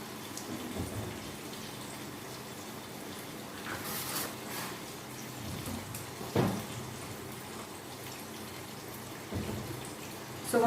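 Water poured into an open pan on a home stove for boiling potatoes, a steady faint splashing and trickle with a few clattering knocks of the pan, no talk.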